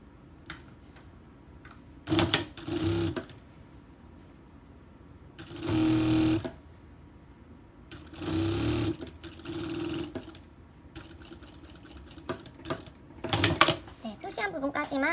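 A sewing machine stitches a linen bucket bag in several short, loud whirring runs separated by pauses, with a voice speaking between them.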